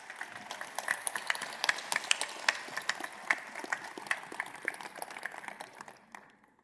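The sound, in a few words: audience applause for sponsors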